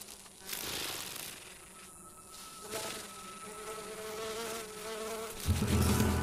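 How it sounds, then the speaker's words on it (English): A fly buzzes in short droning bursts, coming and going near the listener, with a louder, closer buzz at the end. "A parasitic fly looking for nests to hijack."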